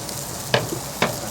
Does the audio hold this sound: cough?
no